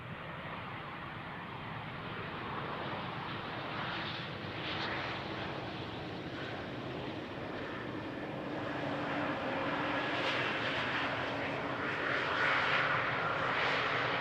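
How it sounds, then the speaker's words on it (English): An Embraer 190 airliner inbound from Vienna passes at Amsterdam Schiphol Airport, a steady broad engine roar that swells slightly toward the end, heard from a moderate distance with no talk. "if I look at flight radar, this would be the Embraer 190 inbound from Vienna"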